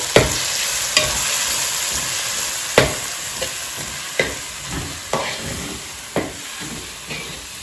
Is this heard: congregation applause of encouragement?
no